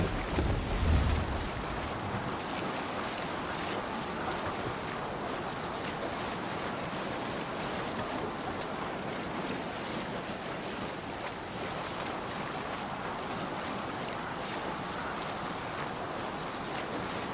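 Steady wind rushes at sea while sailing in the video game Assassin's Creed Valhalla, with washing waves, a constant broad roar throughout with a brief low thump at the start.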